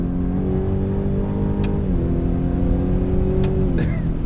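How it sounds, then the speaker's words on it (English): A Ford F150 Raptor R pickup engine pulls hard with a loud, steady drone, its pitch dropping twice as the paddle shifters change gear, with sharp mechanical clanks at the shifts. "Satisfying hearing these paddle shifts just clank."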